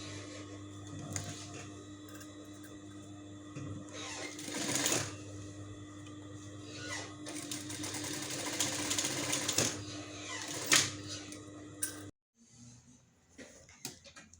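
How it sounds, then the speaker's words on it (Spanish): Sewing machine stitching back and forth across a patch on a torn denim skirt, a close rapid mechanical whir in bursts with thumps as it stops and restarts, then quiet handling noises after it halts. "Y ahora pues le paso más pespuntes para arriba y para abajo."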